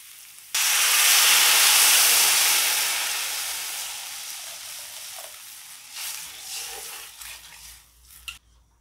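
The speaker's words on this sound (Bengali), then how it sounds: "এবার ডাউল সিদ্ধ করে নেওয়ার জন্য জল দিয়ে দেব।" Water poured into a hot pan of fried lentils for a ridge gourd dal bursts into a loud, close sizzle that gradually fades, with a few light clinks of utensils toward the end.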